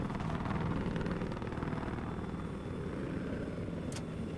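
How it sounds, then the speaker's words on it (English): A helicopter flying in a video game, heard from inside as a steady rotor and engine drone that holds at a constant, moderately loud level throughout with no talk. "I'm in the chopper again."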